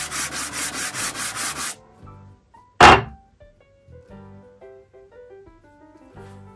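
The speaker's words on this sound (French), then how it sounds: "J'ai poncé aussi la cale pour enlever toute la vieille cire." The old wax is sanded off the wooden wedge of a hand plane in about eight brisk, rhythmic strokes, close and loud, followed by a single sharp wooden knock and then quieter faint clatter.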